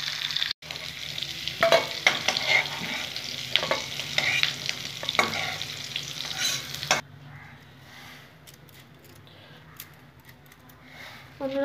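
Black cumin and dried red chili dropped into hot oil for a tempering, sizzling and crackling up close while being stirred, the frying loud at first and then dropping to a quieter hiss.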